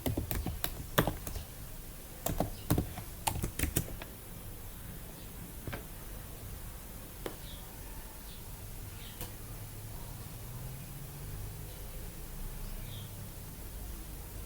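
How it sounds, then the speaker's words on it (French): A password is typed on a computer keyboard during a Kali Linux install in VirtualBox, heard as scattered sharp key clicks in the first few seconds over steady hiss, followed by mostly noise with a few isolated taps. "Maintenant, nous allons taper mon mot de passe."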